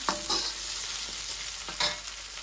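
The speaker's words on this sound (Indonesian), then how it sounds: "Lanjut tambahkan juga bawang yang kita geprek tadi, bawang merah." Crushed shallots and chilies sauté in hot oil in a pan, giving a short, close, steady sizzle with a couple of brief louder stirring scrapes.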